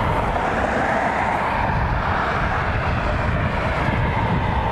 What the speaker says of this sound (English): Southwest Louisiana 1 is pushing back this aircraft to be heading to BWI